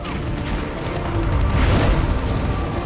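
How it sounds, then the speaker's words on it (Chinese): Cannon fire in a Chinese wartime drama: a loud, sustained, rumbling blast fills the whole moment close up, dense and booming without a clear break. "再来，陈队，预备，放！"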